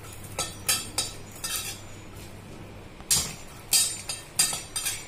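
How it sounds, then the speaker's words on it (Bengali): Garlic and chili are stirred in a hot, dry wok with no oil, giving a string of metallic clinks and scrapes in quick bursts, a short lull, then more clattering strokes close to the pan. "এই রসুন আর লঙ্কাটা যতক্ষণ না পোড়া পোড়া হচ্ছে ততক্ষণ পর্যন্ত এটা ভালো করে নাড়তে হবে"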